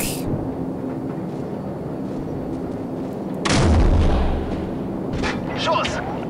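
Heavy gunfire booms in the video game Call of Duty 4: Modern Warfare. One loud, deep blast lands partway through, followed by smaller bursts, over a constant rumbling backdrop with voices talking.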